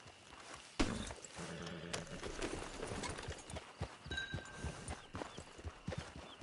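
Horse hooves clip-clop at a steady walking pace on the approach to a camp with a hitching post, the hoofbeats fairly close and distinct over a low background rumble.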